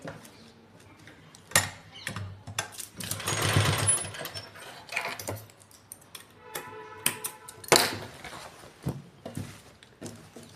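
A sewing machine stitches shirt fabric along the back neckline facing in short, irregular bursts of rapid mechanical ticking, with quieter pauses in between and no talk.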